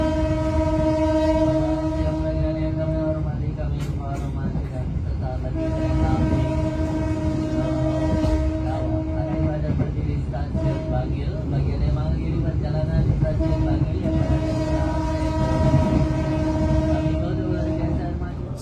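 Logawa passenger train, a long steady roar of wheels on rails with repeated horn blasts sounding in sustained tones over the rumble, close and loud; a voice talks over it.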